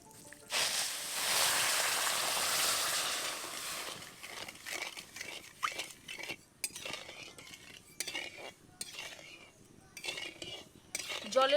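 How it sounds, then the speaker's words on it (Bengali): Sugar and water stirred in a metal wok for Mysore pak, opening with a steady gritty grinding of granules against the pan, then irregular scraping and clinking spoon strokes, close and clear with no talk. "জলের মধ্যে চিনিটাকে খুব ভালোভাবে গুলতে দেব।"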